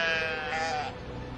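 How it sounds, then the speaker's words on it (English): A sheep in the video game Brothers: A Tale of Two Sons gives a single loud, close, wavering bleat lasting about a second. "If you pick up one sheep and you start to go around like this, you have to keep going around."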